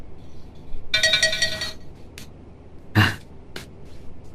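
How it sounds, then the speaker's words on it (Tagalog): A phone's text message alert chimes once in a short, bright jingle, followed by a throat clearing or cough and a faint click. "Ni Adelfa tinag-text"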